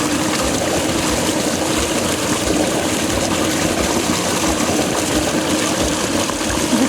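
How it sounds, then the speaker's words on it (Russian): A December waterfall rushes beneath a crust of ice, a steady dense roar of churning water heard up close without pause or voices. "Сверху ледяная корочка, а подо льдом бушует водопад."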